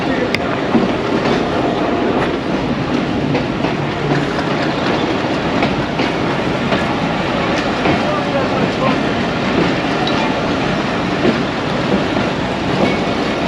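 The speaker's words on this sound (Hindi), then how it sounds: "ट्रेन रुकी थी और अब रवाना हो रही है" Dhamaka Express pulling away from a station, heard from inside the locomotive cab: a loud, continuous rumble with faint rhythmic wheel clatter on the rails and engine drone filling the whole stretch.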